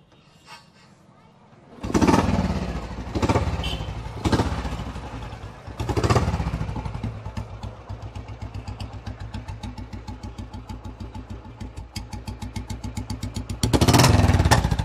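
A restored 1960 Royal Enfield Bullet 500cc cast-iron motorcycle engine starts up with a few loud revs, then settles into a steady, thumping idle before revving again at the end.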